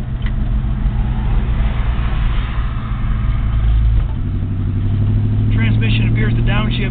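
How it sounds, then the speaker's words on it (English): A 1955 Studebaker with an automatic transmission drives along, its engine a steady loud rumble that shifts pitch around the midpoint as the gearbox downshifts, then settles into a lower, even drone. "Transmission appears to downshift without issue."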